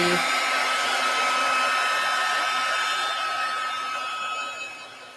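A hair dryer blows steadily to dry spray paint on a wood slice, a constant close whooshing whine that starts abruptly and fades slightly toward the end.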